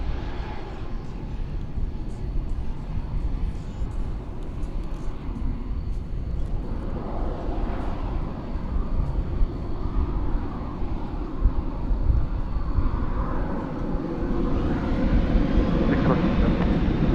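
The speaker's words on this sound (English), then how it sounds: "Qatar airliner headed over the bridge in the background" A Qatar Airways airliner passes overhead at DFW Airport, a sustained jet rumble that grows fuller and louder toward the end, with talking at times.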